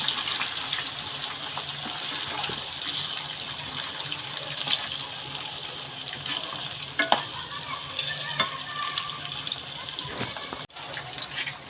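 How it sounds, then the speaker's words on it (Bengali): Onion and capsicum frying in a pan for chilli chicken, a steady close sizzle with scraping stirs and occasional clinks throughout, no voices, briefly cutting out near the end. "এবার পেঁয়াজ আর শিমলা মির্চ দিয়ে দেবো একটু ফ্রাই করে নেবো"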